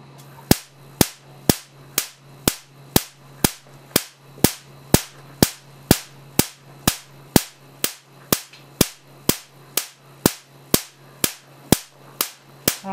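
A Marx generator fires repeated electrical discharges through a 1000W metal halide lamp tube, giving sharp, evenly spaced cracking snaps about twice per second, steady and fairly loud with nothing else in between.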